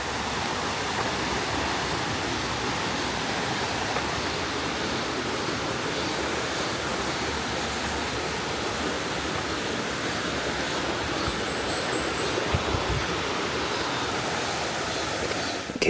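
A mountain valley stream near Seoul in late summer rushes steadily, a dense, continuous broadband roar of flowing water that stays loud and even for the whole stretch with no voices.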